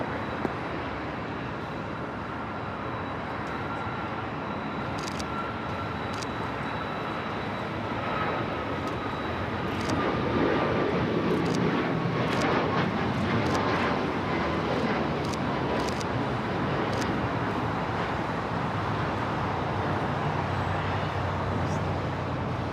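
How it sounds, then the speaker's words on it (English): An Alaska Airlines Boeing 737 MAX 9 takes off from the south side at Los Angeles LAX, a broad steady jet roar that builds and stays loud through the second half, with a faint high engine whine running across it. "Alaska Airlines Flight 1374 heading to Loretto, 737 at MAX 9. Now taking off here on the south side."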